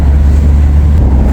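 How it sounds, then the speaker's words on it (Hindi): Inside a car driving in Guyana with the windows open, a loud steady roar of wind and road rumble fills everything, deep and constant, with no voices. "ये गाड़ी हमारी कुदरती एयर कंडीशन है, इसलिए इसमें शोर काफ़ी आ रहा है।"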